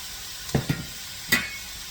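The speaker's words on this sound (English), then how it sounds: "Now we have to saute these." Spicy seasoning sautéing in a pot with a soft steady sizzle, broken by a few quick scraping stirs.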